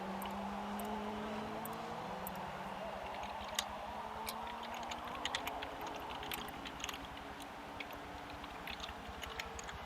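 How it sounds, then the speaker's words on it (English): Sparse, quick keyboard clicks from fast typing on a computer keyboard, faint against a steady engine drone from a Le Mans endurance racing simulation. "So you're going to hear a lot of furious typing going on here as we progress through this stint."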